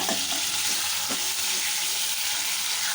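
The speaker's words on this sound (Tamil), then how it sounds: "இந்த தக்காளி பச்சை மிளகாயை ஒரு தடவை அப்படியே கலந்து விட்டுக்கோங்க" Chopped tomatoes and green chillies sizzle steadily in a hot pan while a spoon stirs them, giving a constant bright frying hiss broken by a few soft scraping strokes, close and fairly loud.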